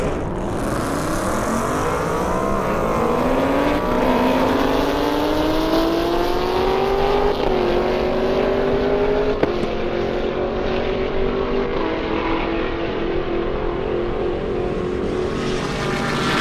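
A Chevrolet Camaro ZL1 with a parachute launches down an airstrip drag course at the 2023 Indy Airstrip Attack, its loud engine roar climbing steadily in pitch through a long, unbroken pull.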